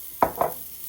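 Crêpe batter hits an oiled pan with two quick, close sizzling bursts about a fifth of a second apart, followed by quiet.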